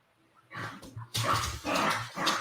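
Dogs bark in a rapid burst of several loud, close barks and yips, heard on their own without talk over them.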